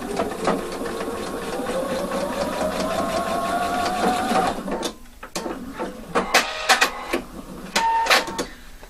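A sewing machine stitches a zipper facing in a fast, even run that climbs slightly in pitch, then stops, followed by scattered clicks and clatter of handling the fabric and machine.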